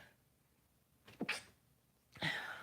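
A person sneezes twice, each a sharp breathy burst after a brief intake of breath, close and fairly quiet, with no talk around them.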